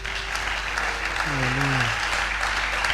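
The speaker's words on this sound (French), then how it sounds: "nous allons encore acclamer plus fort" A church congregation applauding during a French-language prayer service, with steady, sustained clapping throughout and a brief sung or called acclamation rising over it.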